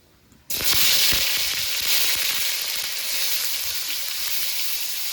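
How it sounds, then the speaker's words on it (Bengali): Chopped tomatoes hit hot oil already tempered with dry red chillies and whole cumin, bursting into a loud, sudden sizzle that settles into a steady frying hiss with no talking. "টমেটোটাকে ভেজে নেব"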